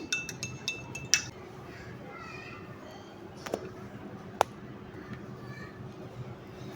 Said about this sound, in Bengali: তো মধুটা দিয়ে এখন চায়ের সঙ্গে মিশিয়ে নিচ্ছি